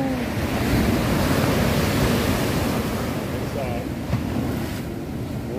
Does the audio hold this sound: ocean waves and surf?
yes